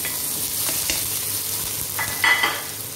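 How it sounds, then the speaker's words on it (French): Onion sizzles and crackles in hot oil in a pan, a loud continuous fry with bursts of stirring and scraping near the end. "notre huile est chaude. Donc nous allons commencer par l'oignon"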